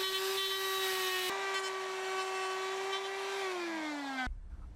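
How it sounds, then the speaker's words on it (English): A router widens a wire trough in a wooden post beam to fit 1/2 inch conduit. Its loud, steady motor whine sags slightly in pitch under load before cutting off abruptly. "I'm going to use a router and make the wire trough a little bit bigger"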